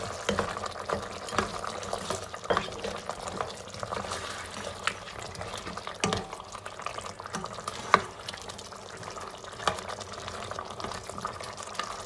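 Steady bubbling and simmering of water boiling off in a pot of mutton karahi with black pepper and cumin, soft crackles and occasional clicks, continuous and moderately quiet throughout, no voices.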